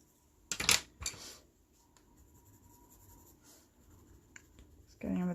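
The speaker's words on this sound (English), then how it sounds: "Just pressing a little bit harder with my pencil, give a bit more colour." Close, soft scratching of a pencil pressed harder on paper during a fox drawing comes in short strokes with a couple of sharper taps, quiet overall and ending in a louder burst of noise.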